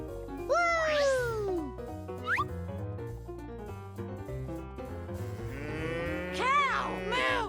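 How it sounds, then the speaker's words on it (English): A cartoon cow moos in a toddler's animal-learning program, with long, rising and falling tones over bouncy background music and bright, squeaky effects. "Cow! Moo!"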